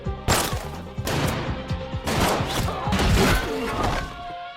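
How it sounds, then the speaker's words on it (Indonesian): A flurry of gunshots rings out in rapid, uneven bursts, sharp cracks and thuds overlapping as if in a chaotic exchange of fire. "aksi tembak-tembakan pun terjadi."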